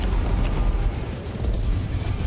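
The fire attack of the boss Fader in the video game Valheim comes through as a dense, continuous roaring rumble with heavy low-end booms, loud and unbroken for a couple of seconds.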